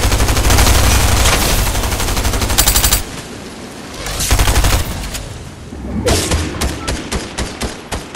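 Fortnite squad match gunfire: dense rapid automatic bursts up front, then a pause and a series of single heavy shots with thuds, loud and close.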